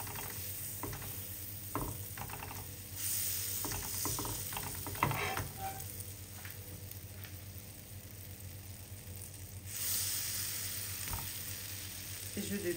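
Butter sizzling in a frying pan before brioche perdue goes in, a quiet steady crackle and hiss with occasional scrapes and clinks of a utensil, swelling briefly louder twice.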